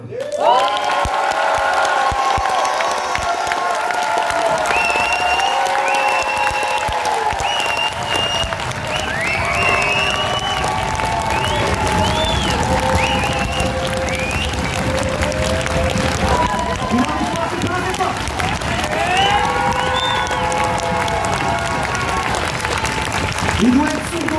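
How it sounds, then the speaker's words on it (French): A large crowd at the opening of the Big Tournoi 2023 applauds and cheers as ULM arrives on stage, a loud, continuous wash of clapping with shouts and whistles, and voices calling over it throughout. "Je vais vous demander de faire un tonnerre d'applaudissements pour celui que le monde aime"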